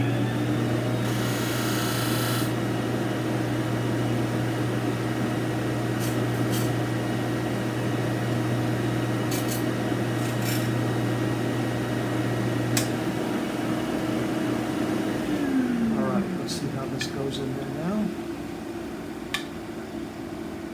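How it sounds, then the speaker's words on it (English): A shop sander used on the flat end of a dovetail neck for an archtop guitar gives a steady, loud motor hum that cuts out partway through and winds down into quieter room noise. "I'm just going to run over real quick to the sander and shave off the flat end"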